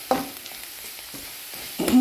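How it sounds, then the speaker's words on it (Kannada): Masala shevige being stir-fried with pepper powder, Kashmiri red chilli powder and garam masala in a pan: a soft sizzle under three or four scraping stirs, the last one louder, no talk. "ಇದು ಕೂಡ ಫ್ರೈ ಆಗಬೇಕು ಚೆನ್ನಾಗಿ."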